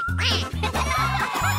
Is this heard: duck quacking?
yes